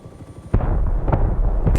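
A helicopter fires in the game Rust: after quiet, a loud close burst of gunfire cracks out, with further shots and booms rolling on after it.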